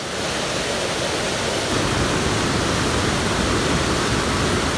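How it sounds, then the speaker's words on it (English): Au Sable Falls pours continuously, a loud, broad, steady rush of falling water heard close by with nothing else on top. "You've got the power of the waterfall"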